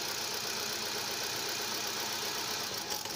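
A car engine with an injector misfire runs at idle, a rough continuous hum with faint uneven knocking, quiet and steady with no voices.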